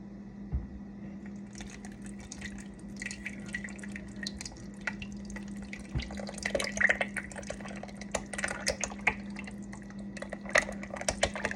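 Liquid soap pours and splashes irregularly while making charcoal tea tree soap, with scattered drips and wet spatters growing busier toward the end, close by and fairly quiet.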